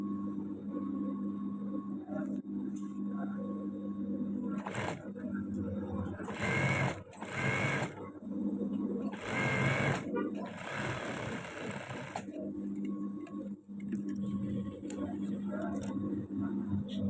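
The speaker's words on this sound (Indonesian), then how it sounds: "langsung aja kita jahit tepi yang di kain" Sewing machine stitching along the edge of a piece of fabric for a women's uniform, a steady close mechanical whir running continuously with brief pauses, while a voice talks over parts of it.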